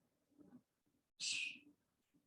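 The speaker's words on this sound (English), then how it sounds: "There's a bird in the wall." A bird calls from inside a wall during an indoor strength-training session: one short, loud, high chirp about a second long, close by, with quiet talk before and after.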